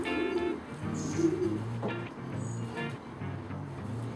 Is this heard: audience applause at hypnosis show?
no